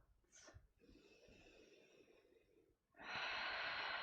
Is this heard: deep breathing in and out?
yes